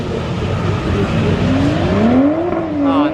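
Loud engines of a car and a pickup truck drag racing on a track roar and rev hard, pitch climbing as they accelerate, with a steady rumbling background.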